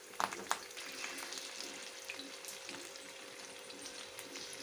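Curry leaves crackle and sizzle as they fry in hot oil, with a couple of sharp pops at the start and then a steady bubbling hiss.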